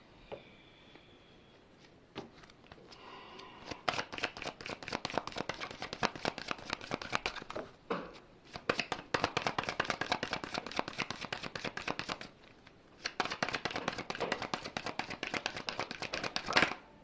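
Tarot cards shuffled by hand, a dense rapid riffling patter that starts faintly and then runs in long bursts with brief pauses, close and fairly quiet, with no talk.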